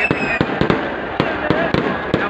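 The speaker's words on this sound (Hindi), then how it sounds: "अब आतिशबाजी हो रही है।" Fireworks going off at a PML-N political rally at Minar-e-Pakistan in 2023: a rapid series of sharp cracking bangs, roughly a dozen irregular bursts, over a constant outdoor crowd din.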